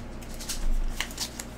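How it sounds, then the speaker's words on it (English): Cards from the Flesh Ward spell deck in the Mansions of Madness 2nd Edition board game are shuffled by hand, giving a brief, soft papery riffle with a few light flicks up close. "I'm shuffling the Flesh Ward spell so that I can give you a random one"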